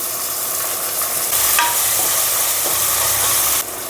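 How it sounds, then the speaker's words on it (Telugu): Ginger paste frying in a pan for tomato rice, a steady close sizzle with faint stirring scrapes throughout, loud and continuous with no talk. "అల్లం కొద్దిగా పచ్చి వాసన పోయే వరకు ఇలా వేపుకోవాలి"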